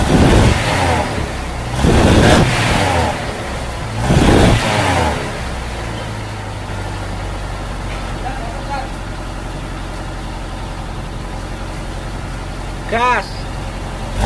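A Suzuki Escudo petrol engine that smokes and burns oil is revved three times in quick, loud bursts, then settles into a steady idle rumble.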